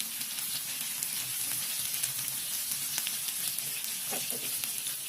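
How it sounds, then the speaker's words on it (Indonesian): Sliced garlic, green chili and half a red tomato sizzle steadily in hot oil in a pan, a continuous bright frying hiss with faint stirring clicks near the end. "ini 2 siung bawang putih diiris-iris dan digoreng sampai tercium bau harum, lalu tambahkan irisan cabai hijau dari 3 buah cabai dan setengah buah tomat merah"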